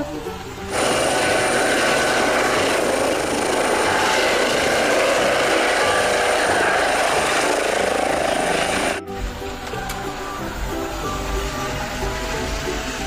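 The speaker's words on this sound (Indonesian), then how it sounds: "Ada helikopter." Helicopter, a loud, steady whirring rotor and engine drone that holds for about eight seconds, then gives way to quieter, mixed background sounds.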